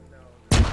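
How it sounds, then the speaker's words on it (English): A sudden, loud explosion of a rigged British boat in a video game, bursting abruptly after a quiet half-second of low ambient hum and then rumbling on heavily. "The Brits must have rigged it to explode!"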